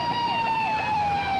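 A Norwood police car siren wails steadily and close for the whole moment, its rising and falling tone loud with no talk over it.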